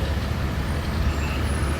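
Bus traffic at a downtown bus hub in Puerto Vallarta, Mexico: a steady, loud low rumble of idling and moving buses and road noise with no clear break, filling the short stretch without voices.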